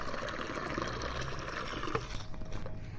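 Water poured out for a thirsty puppy, a faint steady trickling and splashing stream running throughout, with no voices over it.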